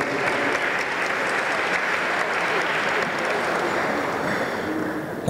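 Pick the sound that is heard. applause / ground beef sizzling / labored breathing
applause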